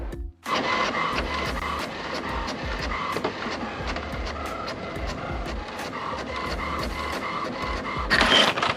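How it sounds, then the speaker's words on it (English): A printer runs steadily for several seconds with rhythmic mechanical clicks and a whirring feed motor, close and loud, building to a brief louder burst at the end. "I will let them print out"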